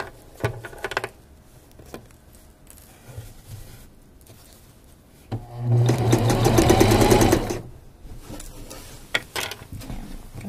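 A sewing machine stitches the crotch seam of a pair of pants, running in one loud, steady burst of rapid mechanical needle clatter for about two seconds, framed by quieter handling and fabric shuffling before and after.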